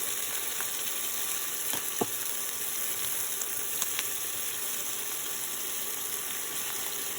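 Garlic and onions sautéing in a pan, with a steady close sizzle and crackle running the whole time and a few sharp clicks of a utensil stirring.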